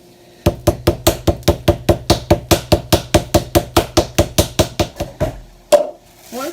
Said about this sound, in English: Once our chicken is pounded out a little bit thinner